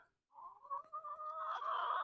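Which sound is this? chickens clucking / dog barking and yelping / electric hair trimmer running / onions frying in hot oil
chickens clucking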